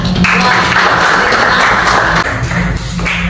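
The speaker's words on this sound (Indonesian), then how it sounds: "Silakan kasih tepuk tangan." Students clapping in a classroom, a steady dense patter of applause that fills the whole few seconds at close range.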